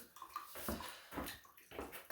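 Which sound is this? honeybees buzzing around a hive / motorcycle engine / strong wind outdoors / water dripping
water dripping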